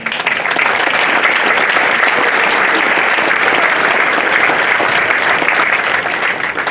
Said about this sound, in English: I would love it if you'd give yourself a round of applause.